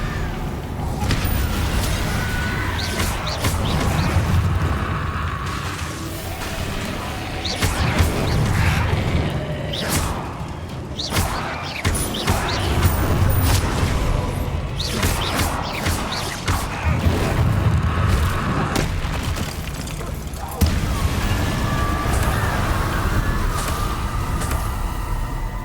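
Spell effects from Hogwarts Legacy played on a DualSense controller: a fiery Confringo blast and an Expelliarmus disarming spell. Repeated sharp bursts, crashes and whooshes pile up over a continuous game soundscape, loud and busy throughout.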